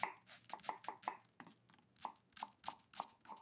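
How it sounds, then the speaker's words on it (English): Knife chopping iceberg lettuce, pickles and onions on a board, a steady run of about a dozen crisp, close chops in an even rhythm with no talk. "Chop up iceberg lettuce, pickles, and onions."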